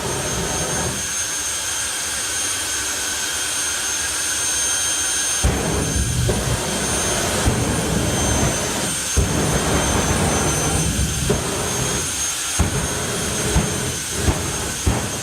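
Fire Force 5, a jet-powered drag racing vehicle at the FIA FIM Main Event, roars with a steady, loud, broad jet rush that holds throughout, punctuated by sharp pops and surges from the engine.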